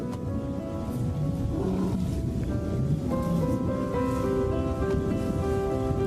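Lions roaring during a storm, deep rumbling calls rising and falling over steady rain-like noise and a constant background hum.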